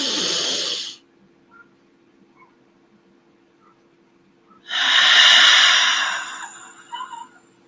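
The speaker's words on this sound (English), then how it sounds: "inhaling through the nose and exhaling through the mouth" Two breaths of a slow calming exercise, a short nasal inhale and then a longer, louder exhale through the mouth after a few seconds of quiet, both close and breathy.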